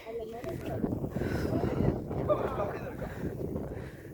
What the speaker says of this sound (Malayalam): ഇവിടുത്തെ കാറ്റ് ഭയങ്കര കാറ്റാണ്,